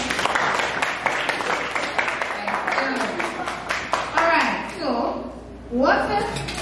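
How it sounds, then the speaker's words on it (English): Children at a church children's programme clap in a short burst of applause while an adult speaks over them, then the clapping thins out as talk continues. "Give her a round of applause."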